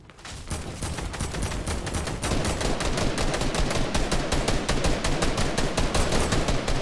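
Rapid, sustained gunfire from the video game Fortnite during a trio tournament match, with dense bursts of automatic shots crackling continuously and loudly for several seconds, no talk over it.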